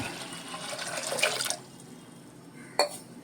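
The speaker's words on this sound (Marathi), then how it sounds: "हे 2 वाट्या पाणी घालतोय" Water is poured from a bowl onto soaked dal for Mangalore-Udupi style sambar, a close, splashy pour lasting about a second and a half, then a short quiet and a single light clink.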